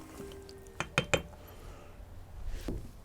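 Avocado pasta stirred in a pot with walnuts and pepper, a few sharp clinks of utensil against cookware near the start, then soft scraping, close and alone.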